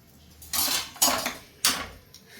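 A spoon stirs salt into homestyle sambar with ivy gourd in a metal pot, giving three distinct scraping, clanking strokes against the pot in a slow rhythm, each fading before the next.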